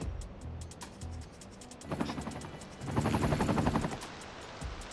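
A helicopter in the Städtle Bauen city-building game chops with rapid pulsing rotor beats, louder bursts swelling twice over a quieter background.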